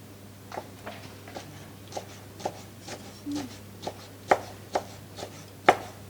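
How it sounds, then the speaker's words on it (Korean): A knife chops ripe kimchi on a cutting board in a restaurant kitchen, giving a dozen or so sharp, evenly spaced knocks, close and crisp over a low steady hum, with no talking. "익은 김치 송송."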